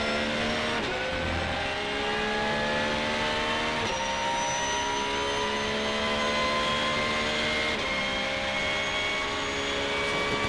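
GT race cars, a Porsche and a Ferrari, roar around Sebring International Raceway, loud sustained engine drones with shifting pitch as cars shift gears and pass, continuous throughout with no talk.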